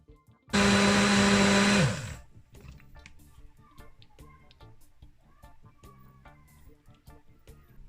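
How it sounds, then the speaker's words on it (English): A countertop blender whirs loudly for about a second and a half as it blends a sea moss smoothie with almond milk, then spins down, leaving quieter clatter and handling noise. "we're gonna blend this bad boy"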